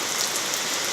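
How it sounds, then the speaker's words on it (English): Steady rain pours down outside a workshop, a dense even hiss of drops striking surfaces with no pauses, close and fairly loud throughout. "This rain."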